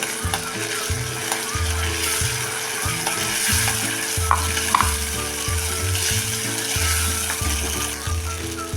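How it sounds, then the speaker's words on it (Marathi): Ground masala paste sautés in oil over softened tomatoes for sambar, a steady sizzling hiss running throughout beneath a rhythmic, thumping background beat. "आपण हा वाटलेला मसाला वतून चांगला परतून घ्या तेल सुटेपर्यंत"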